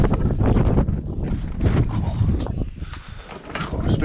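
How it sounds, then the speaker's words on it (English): Wind buffets a microphone outdoors on a street, producing loud, continuous low rumbling gusts that swell and ease over a few seconds, with no speech. "Oh, it's a bit windy."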